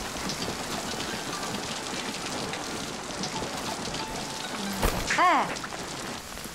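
Heavy rain pours steadily throughout, a dense hiss that fills the scene, with a single short spoken exclamation near the end.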